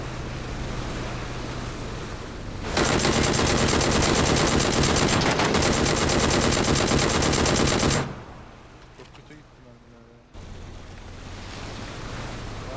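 Continuous automatic gunfire in a shooting video game, a dense loud roar of rapid shots lasting several seconds, then quieter ambient game sound before another burst starts.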